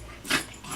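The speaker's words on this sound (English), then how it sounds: "Little dog." Small elderly dog giving one brief, faint whimper up close during a back scratch, in a quiet room with no talk.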